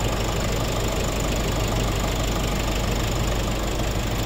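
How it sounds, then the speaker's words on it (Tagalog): A 2020 Nissan Navara VL 4x4 diesel engine idles steadily, a continuous low rumble with a faint knocking texture and broadband hiss, close and constant with no talking. "umaandar yung makina ngayon"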